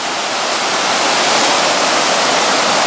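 A mountain stream in the Smoky Mountains spills down through a rocky section into a pool, making a loud, constant rushing roar close by with no voices.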